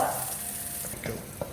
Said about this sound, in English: whilst the onions are cooking and softening up